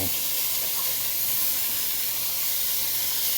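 Meat browning in a pan while Alfredo is being made, a steady close sizzling hiss that runs unbroken throughout with no talk over it.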